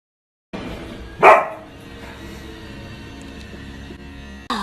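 A single sharp dog bark rings out close and loud, followed by steady low room noise.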